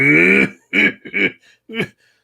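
A voice imitates slow, drawn-out coughing: one long hoarse cough followed by three shorter, spaced coughs, close and loud.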